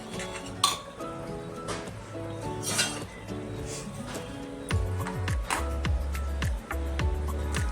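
Dry dates roasting in a pan for dry-fruit ladoo are stirred with a utensil, giving repeated metallic clinks and scrapes against the pan in an uneven rhythm, heavier toward the end.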